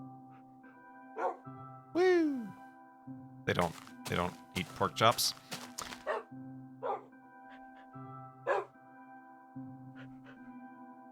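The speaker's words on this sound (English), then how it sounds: "A lot of wolves." Minecraft wolves barking in quick, yippy bursts at a dog park, several dogs yapping and whining at varying distances amid ambient game music, with someone talking over them.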